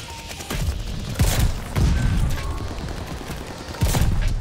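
A sniper rifle in a video game fires several times: sharp, booming shots with mechanical clatter between them, loud and close over a steady game background, without any talk.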